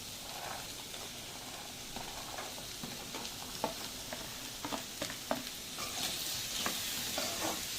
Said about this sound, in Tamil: நல்லா கிண்டி விட்டுக்கிடணும்